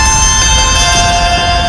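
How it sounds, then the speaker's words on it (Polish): Trevor's bell ringtone rings loud and sustained with heavy added echo, bright metallic tones hanging and smearing together continuously with no gaps. "Ja mam pomysł, jak polepszyć dzwonek Trevora,"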